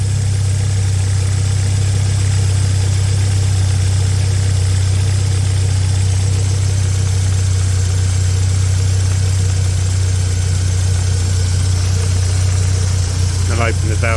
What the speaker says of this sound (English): Let the engine get up to temperature.